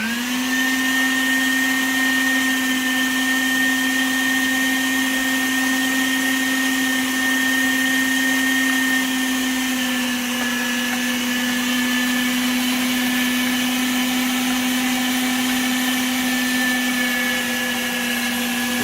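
An Aobosi 1200W electric meat grinder runs in forward, mincing meat with a loud, steady motor whine and hum that holds throughout, dipping slightly in pitch partway as the load changes.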